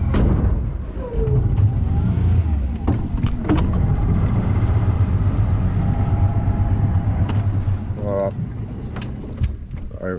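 An outboard motor with mechanical trouble runs on a small fishing boat in remote Northern Territory waters, a steady low engine drone throughout with some knocks and whine, while people talk over it.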